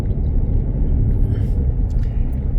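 Cars rolling along a country road through open Virginia farmland, a steady broad road rumble with faint higher rushes as vehicles pass nearby, no talk.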